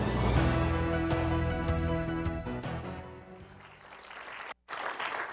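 Enthusiastic audience applause fills a hall at a Prophecy Club event as the host is introduced, loud and sustained clapping that gradually thins and fades toward the end.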